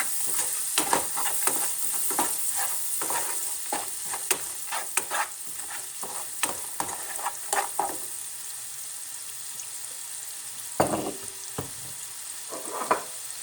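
Stuffing for a roast chicken is sautéed in a pan with salt and sugar. A continuous sizzle runs underneath quick, repeated spoon scrapes and taps that thin out toward the end, and no one speaks.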